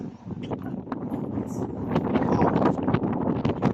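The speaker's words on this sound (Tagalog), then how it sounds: "Malakas ang hangin eh." Strong wind buffeting a microphone on a mountaintop near a house in Batangas City, a steady rough rumble that gusts and swells louder toward the end, with faint rustling and no clear talk.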